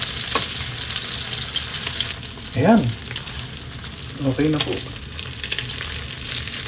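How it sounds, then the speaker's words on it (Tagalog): Egg mixture poured into a pan of hot cooking oil sizzles and crackles steadily, a close and loud frying hiss running throughout while a voice briefly speaks over it. "Saka nyo po ibuhos sa kawali na may mainit na mantika."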